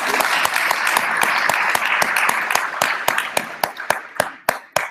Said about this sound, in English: Can I round of applause again for Kieran?